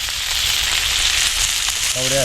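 Close, loud, continuous sizzling of fish frying on a tawa over a small outdoor stove, with a brief voice breaking in at the very end.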